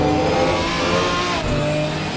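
GT4 race cars racing at Zolder circuit, loud continuous engine roar with shifting revs as a car passes close, the pitch sliding down partway through.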